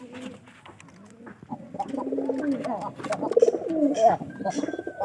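Giribaz pigeons coo in low, throaty, repeated bursts that grow louder midway, while a person talks nearby over them.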